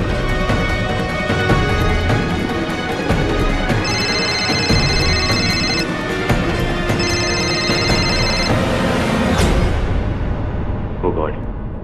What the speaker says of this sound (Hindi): तुम फोन ऑफ कर दो ना आदित्य, प्लीज।